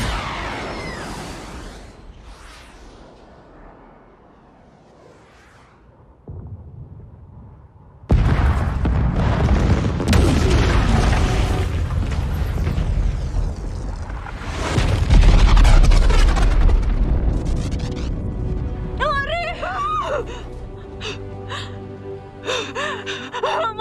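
A missile explodes in the action film Atlas: quiet, breathy tension gives way to a sudden heavy roaring blast that rumbles on loudly, followed by lingering debris and electronic effects.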